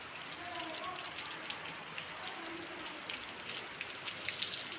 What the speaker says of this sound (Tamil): செம்ம மழை, பயங்கர மழை பெய்து போய்.